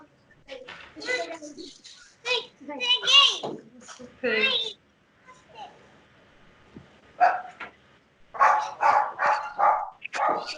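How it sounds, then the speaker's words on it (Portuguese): A dog barks in the background of an online university meeting through someone's open microphone, a few short barks mixed with a voice and nearby talk that dominate most of the stretch. "Tem alguém com o microfone aberto, o cachorro tá participando."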